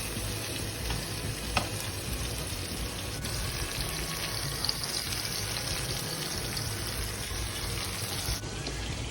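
Fish frying in a pan, giving a continuous, even sizzle and crackle at close range, with a faint clink near the start and a brief change near the end.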